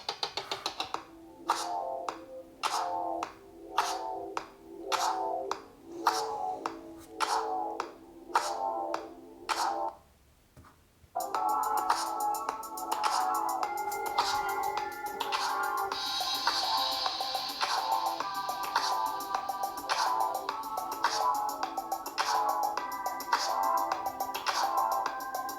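Music with sharp percussive beats plays through the small built-in speaker of a FiGi Note 5 budget phone, steady rhythmic hits for ten seconds, a brief pause, then a denser, brighter passage continuing at moderate level.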